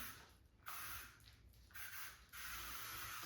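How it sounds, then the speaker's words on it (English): Hair spray hisses onto a short styled pixie cut in three quick close bursts, with brief quiet gaps between them. "just gonna spray that."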